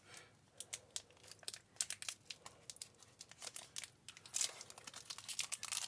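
A strawberry snack packet is handled and torn open, giving quiet, irregular plastic crinkles and crackles close by, growing busier toward the end.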